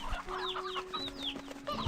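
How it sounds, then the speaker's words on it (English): Chickens in the video game Slime Rancher cluck and squawk in a busy, steady stream, with bright chirpy calls layered over a continuous game background hum. "Chickens."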